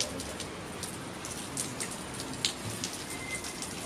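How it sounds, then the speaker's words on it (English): Rain falls steadily at a soft, moderate level, a constant hiss dotted with the occasional distinct drip or patter nearby, and no talking. "it started raining"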